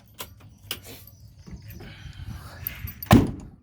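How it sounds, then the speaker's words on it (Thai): The door of a used six-wheel truck is handled with a few light clicks and rattles, then a loud, close thunk near the end. Faint talk is heard in the background. "เอาไปเปิดประตูฝั่งนั้นให้พี่น้องเบิ้งนะครับ"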